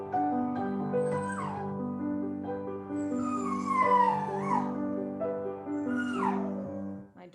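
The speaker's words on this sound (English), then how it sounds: "Dog is going to sing. The more notes I'm going to play, the more he's going to sing." A dog howls and yips along to piano arpeggios played with a melody, long wavering howls rising and falling over sustained piano notes, close and clear, with no talk.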